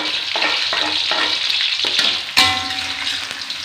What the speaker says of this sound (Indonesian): Dan goreng dulu bawang goreng.